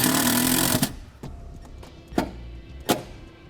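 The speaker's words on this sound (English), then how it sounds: "we'll secure it to the firewall with the provided self-tapping screws" A power driver whirs for under a second as it sinks a self-tapping screw into the firewall of a 2017 Jeep Wrangler, followed by three short, sharp bursts and clicks spaced apart in a quiet garage.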